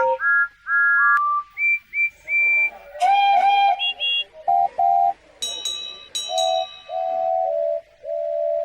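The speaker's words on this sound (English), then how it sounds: "Everyone cheered, and all the engines whistled loudly" Model railway engines on a Sodor Christmas layout whistle loudly together: a dense run of bright, overlapping toots and longer held whistles at different pitches, one after another, with no talk.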